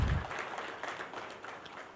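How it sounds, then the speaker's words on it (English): Ceremony audience applauding, a steady wash of many hands clapping indoors, fairly even throughout and fading slightly toward the end. "Let us give a warm round of applause to all our recognition recipients for their exemplary support."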